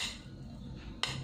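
Instant spicy Gekikara noodles stirred in a bowl or pot, a low steady rustle with faint scraping, then one sharper clink of a utensil against the dish near the end.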